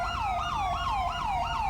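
An ambulance siren in GTA 5 wails in a steady repeating up-and-down sweep, loud and close, with no talking over it.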